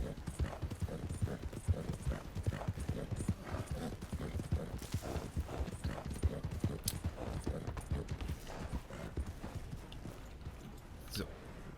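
Horse hooves clip-clop at a steady walking rhythm in the video game Red Dead Redemption 2, continuous and fairly close, with someone talking over them throughout.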